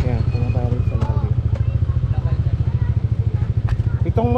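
A motorcycle engine chugs in a steady, rapid low rhythm close by, running throughout while people talk over it.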